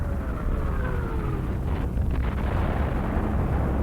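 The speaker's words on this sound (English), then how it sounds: "It was the choking woof-woof-woof of anti-aircraft gunfire." Deep, rumbling bursts of distant anti-aircraft gunfire thud under a heavy low drone, with a faint whine sliding downward early on.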